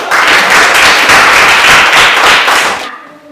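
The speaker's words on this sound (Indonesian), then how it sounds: "Tepuk tangan dulu." Students in a classroom give a loud, close round of applause for a presenting group, dense fast clapping that holds steady and then cuts off abruptly.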